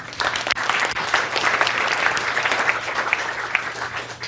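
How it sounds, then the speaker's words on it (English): A seminar audience gives a steady, dense round of applause for a participant, loud and continuous across the whole stretch with no talk over it. "give Gabriel a nice round of applause"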